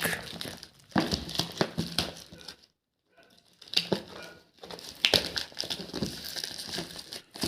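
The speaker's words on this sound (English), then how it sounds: "Let's unwrap this plastic." Close-up crinkling and tearing of plastic wrap being pulled off a Mivi Roam 2 speaker box, in dense rustling bursts with a brief pause near the middle, no speech.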